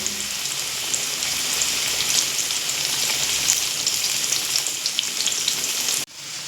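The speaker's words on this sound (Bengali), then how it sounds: "আলুগুলো একটু লাল লাল করে ভেজে নেব" Potatoes fry in hot oil with salt and turmeric until reddish. A loud, continuous, close-up sizzle crackles evenly for several seconds, then cuts off abruptly.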